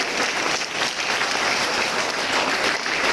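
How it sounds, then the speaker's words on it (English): Sustained applause from a school assembly audience of students, dense and steady throughout, with no talking over it. "So clap for yourself, everyone"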